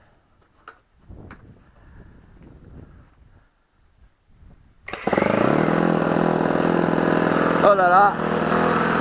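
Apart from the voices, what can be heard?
OS FS 70 model engine starting and running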